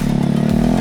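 A Honda Grom 125cc motorcycle engine runs close by, giving a steady, loud mid-pitched drone with no break in level over the short stretch.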